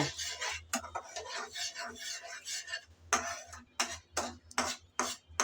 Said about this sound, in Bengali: দুধটা দিয়ে আবারও নেড়ে চেড়ে ভালো করে মিশিয়ে নিতে হবে